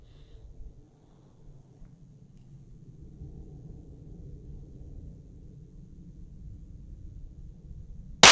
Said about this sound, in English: we'll shoot the Han Solo pistol here